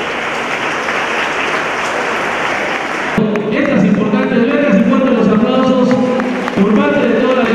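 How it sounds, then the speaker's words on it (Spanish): Broadband audience applause at a Guerrero state government education event fills the first three seconds, then gives way to a voice speaking over music and lighter crowd noise. "Fuerte los aplausos"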